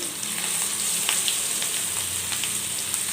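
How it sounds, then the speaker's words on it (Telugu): Semolina-coated fish pieces frying in hot oil, a steady bright sizzle with crackling pops throughout, close and continuous with no voices. "ఇప్పుడు ఏంటంటే మనం చేపల ఆయిల్లో వేసేసుకుందాం"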